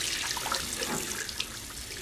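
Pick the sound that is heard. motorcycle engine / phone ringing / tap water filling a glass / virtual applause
tap water filling a glass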